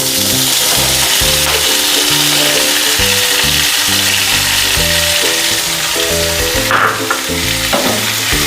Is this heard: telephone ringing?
no